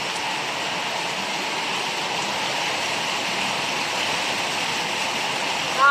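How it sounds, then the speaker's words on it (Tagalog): Heavy rain pouring down steadily on a farm, a dense, loud continuous hiss with no pauses. "Lakas ng ulan, naririnig nyo?"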